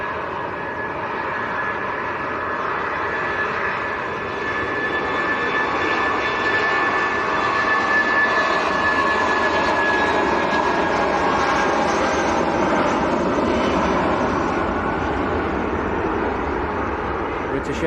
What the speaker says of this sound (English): British Airways is rolling.